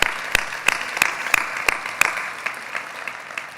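A graduation audience at a social work pinning and hooding ceremony claps in a sparse, steady rhythm, with a handful of sharp, distinct hand claps that gradually soften and fade over a few seconds.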